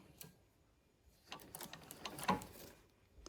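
Restored antique sewing machine stitching fabric, faint mechanical ticking and whirring that starts quietly, pauses, then runs in a quick rattling burst, close by in a quiet room.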